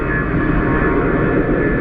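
A Boeing 777 airliner passes at Phoenix Sky Harbor airport as a loud, continuous broadband jet roar that stays steady and close throughout, with possible wind buffeting mixed in.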